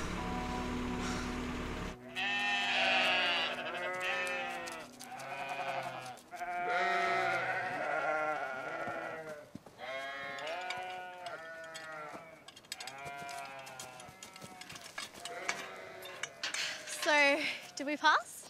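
Sheep bleating repeatedly during a muster in an Australian adventure cartoon, a series of loud, wavering cries one after another, close and fairly continuous, with voices talking among them.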